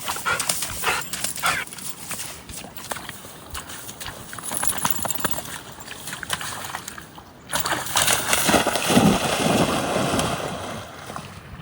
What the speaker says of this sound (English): He's a happy doggy.